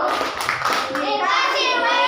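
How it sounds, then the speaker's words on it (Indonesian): Children in a classroom doing the rhythmic 'tepuk WOW' clapping chant, quick claps joined by chanted young voices, then sustained voices. "Kita kasih tepuk WOW, tepuk WOW."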